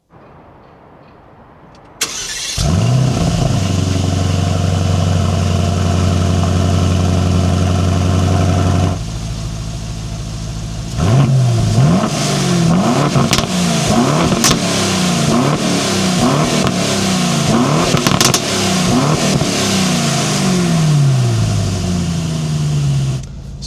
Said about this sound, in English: give you a cold start right now